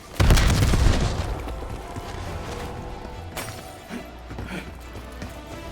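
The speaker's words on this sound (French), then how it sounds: "Grenade frag, à terre!" A frag grenade exploding in Call of Duty Black Ops 7, a loud close blast that rolls off into a decaying rumble, followed by scattered faint thuds and debris.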